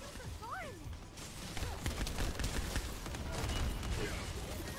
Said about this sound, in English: Wow, that's a lot of explosion.